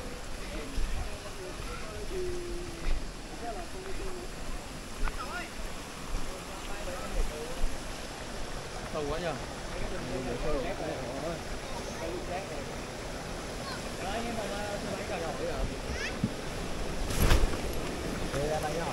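Mountain stream flowing near Bằng Đông waterfall in Bản Bướt, Mộc Châu, a steady broadband rush of water with wind buffeting the microphone and people talking over it throughout.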